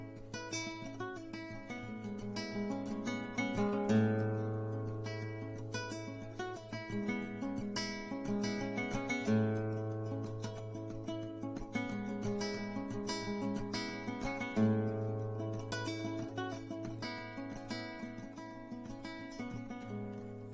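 Solo acoustic guitar plays the intro to a song with a steady strummed and picked pattern of ringing chords. It is close, moderately quiet and continuous, with no voice.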